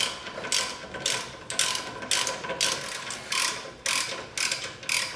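Ratchet tightening bolts on the rear brake rotor of a Yamaha Raptor ATV, heard as about nine short bursts of rapid clicking in a steady back-and-forth rhythm, close up and alone with no talking.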